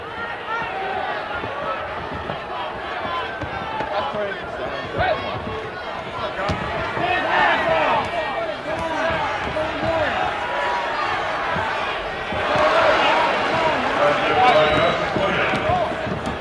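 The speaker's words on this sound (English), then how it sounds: "Listen to all that crowd noise." An arena crowd at a 1979 Lakers home playoff game against the Seattle SuperSonics, a constant roar of many voices swelling louder toward the end, with an announcer talking over it.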